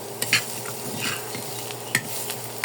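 A spatula stirs brinjal fry in a hot pan over a stove, giving a few distinct scraping strokes over a constant soft sizzle, close up and without voices.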